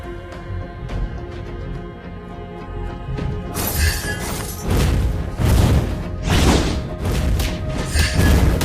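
A turret is destroyed in the Mobile Legends mobile game, with sharp shattering crashes and heavy thuds arriving in several bursts after a quieter opening of game music.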